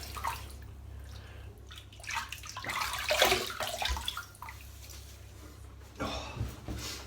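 Cold tap water running over a head being wetted before a razor shave, splashing and dripping in irregular bursts that swell in the middle and again near the end, close by with no speech.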